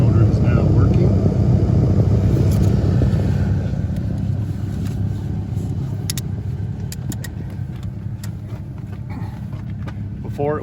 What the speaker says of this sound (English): you can hear that the blower motor is now working